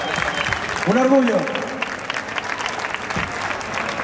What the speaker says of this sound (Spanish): El aplauso que os lleváis.